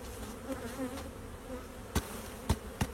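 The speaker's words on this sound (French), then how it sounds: "La population d'abeilles était vraiment plutôt bonne" Honey bees buzz around a polystyrene nucleus hive with a low, steady hum, and a few sharper close passes or knocks stand out near the end.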